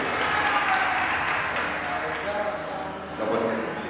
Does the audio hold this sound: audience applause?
yes